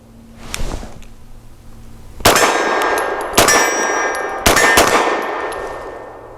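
A Tisas Zigana PX-9 G2 9mm pistol fired three times at a steady pace outdoors, each shot a loud sharp crack with a ringing metallic tail that hangs in the air, after a faint softer knock at the start.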